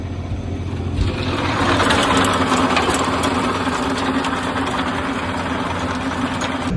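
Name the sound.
tractor running a rotavator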